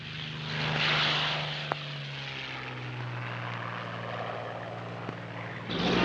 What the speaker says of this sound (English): aircraft which had been brought by ship from Britain and reassembled on the Rock were flown off to Tunisia